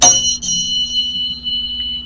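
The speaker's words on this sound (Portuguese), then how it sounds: "o da base tem um som lindíssimo, que é um som bem parecido com o do sino tibetano" A single struck bell tone like a Tibetan bell, pitched at 174 Hz, rings out bright and clear with a brief attack, then sustains and slowly fades.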